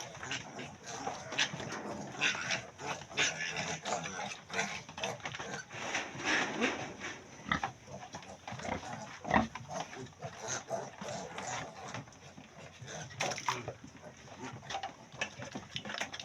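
Piglets of a breeding sow grunt and snuffle steadily while suckling, with scattered squeals and thuds close by, a voice talking intermittently underneath.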